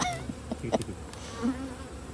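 Honeybees buzz in a dense, steady hum at a hive during a fall inspection, close and fairly loud with no talk.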